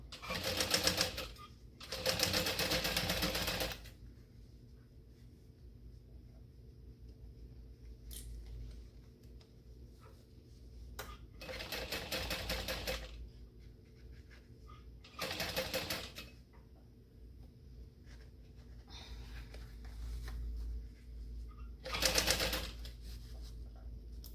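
A sewing machine basts the sides and bottom of a Dayna Pack bag in about five quick mechanical bursts, some long and some short, separated by quiet pauses in an indoor room.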